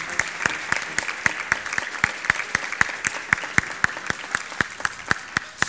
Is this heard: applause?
yes